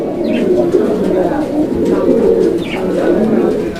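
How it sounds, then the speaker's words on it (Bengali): A pair of active pigeons, sold at a pigeon farm, coo continuously at close range, their low, rolling calls overlapping in a steady, throaty murmur. "কঠিন ডাকের কবুতা দুইটাই খুবই অ্যাক্টিভ অরিজিনাল মাস্টার পেয়ার"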